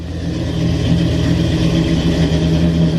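Ram truck with a swapped 8-speed transmission pulling forward in drive: a steady, loud, close engine drone that rises slightly and then holds even, with no talk.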